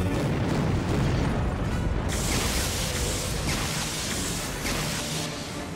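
Loud, continuous rumbling blast from a rocket explosion in the video game Star Wars The Force Unleashed 2, a dense roaring boom that swells and lingers for several seconds with crackling debris and no voices.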